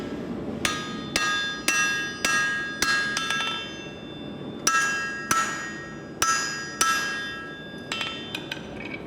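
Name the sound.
hammering hot metal while forging an axe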